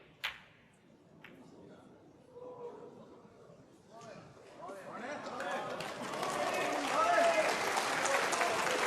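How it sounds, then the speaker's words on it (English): Snooker spectators at a Grand Prix semi-final applaud, starting faint and sparse under a commentator's voice, then swelling into steady, louder clapping that fills the hall. "you could hear the applause from the crowd, just trying to give Ronnie some encouragement"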